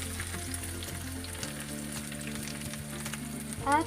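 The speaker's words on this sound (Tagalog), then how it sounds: "igigisa din natin itong ating luya" Ginger sautéing in an oil-filled pan for pork lomo, a steady close sizzle under a faint background hum, with a brief louder clatter at the very end.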